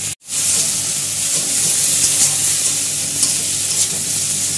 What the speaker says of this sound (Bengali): ভালো করে দেখতে পাচ্ছ আমরা মশলাটাকে কষিয়ে নিচ্ছি